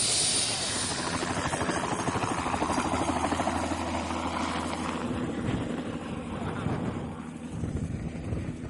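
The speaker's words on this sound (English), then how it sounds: "Now we're moving the patient to the aircraft, and you can see it gets a little noisy." A medical evacuation helicopter's engine and rotors drone steadily close by, a loud continuous roar with buffeting wind noise on the microphone.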